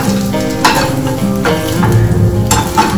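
Vegetables fry in a pan with very little oil, giving a close, steady sizzle broken by scraping stirs at regular intervals, with no talking.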